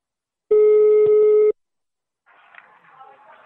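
A telephone call tone on a radio prank call, a single loud steady electronic tone lasting about a second, followed by faint crackly line noise.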